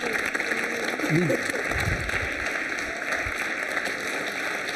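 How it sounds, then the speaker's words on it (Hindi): An audience claps for quiz contestant Shilpi Shah at a Holi quiz show at Biyani Girls College, a steady moderate applause running under someone speaking briefly. "शिल्पी जी के लिए ताली जोरों से बजाइए"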